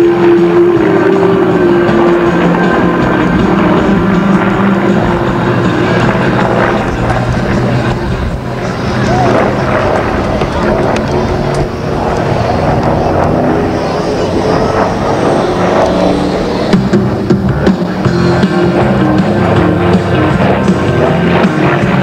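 An F-14B Tomcat twin-engine fighter jet at a 1991 air show in Kalamazoo, Michigan, pulling up into a half Cuban 8 loop, makes a loud, sustained broadband roar that swells and fades across the sky while an announcer talks over it.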